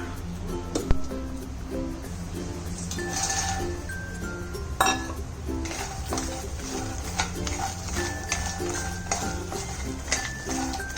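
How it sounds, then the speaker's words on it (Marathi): Makhana (fox nuts) stirred and roasting in ghee in a pan, with repeated light clinks and rattles of the nuts and spoon against the pan, a steady close-up scraping rhythm throughout. "मी थोडंसं तूप टाकते आणि मखाणे भाजून घेते।"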